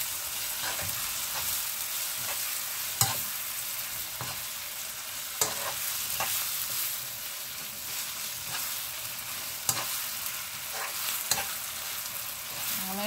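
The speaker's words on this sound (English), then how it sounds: "Fry it for 2 minutes and then I'm gonna add the pumpkin." Saltfish frying in a pan for Guyanese curry pumpkin, making a steady, close sizzle with occasional sharp clacks from stirring, no voices.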